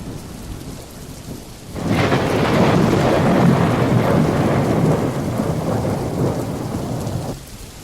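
Thunderstorm effect for an audio drama: steady rain and wind with a deep thunder rumble that swells in loudly partway through and sustains before easing, no voices present.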